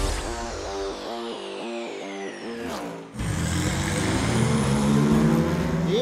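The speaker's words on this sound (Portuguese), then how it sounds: "Esse ronco faz qualquer apaixonado por carros se arrepiar. Estamos falando do modelo Ferrari 488, equipado com motor V8 biturbo" A Ferrari 488 twin-turbo V8 race car at the Império Endurance Brasil round at Velopark revs in rising and falling pulses, then bursts into a loud, full roar close by.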